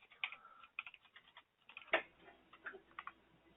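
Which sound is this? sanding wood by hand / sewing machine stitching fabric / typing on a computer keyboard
typing on a computer keyboard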